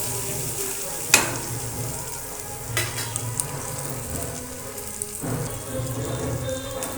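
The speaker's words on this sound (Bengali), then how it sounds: "এবার রসুন কুচি দিয়ে দিলাম। ভালো করে ভেজে নেব সব মশলাগুলো।" Chopped garlic and spices fry in hot oil for soybean manchurian, giving a steady close sizzle with a few brief scraping stirs of a spoon through the pan.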